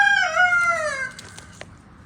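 A rooster crows nearby on a small farm, loud and clear with a long, falling call, then a few soft clucks from the hens.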